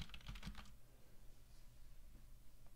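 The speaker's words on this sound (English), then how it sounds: "if I am typing near the microphone on a Dell Quiet Key" Typing on a Dell Quiet Key keyboard close to a Samson UB1 puck microphone: a short cluster of soft clicking keystrokes up front, then a few faint isolated taps over low room noise, with no voices.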